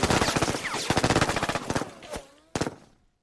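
Rapid gunfire in the Vietnam War game Lock N' Load Tactical: Heroes of the Nam, with dense, loud automatic bursts that thin into a few separate shots and end with one final crack before silence.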